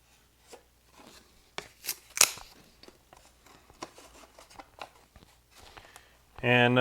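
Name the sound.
cutting a piece for a model airplane wing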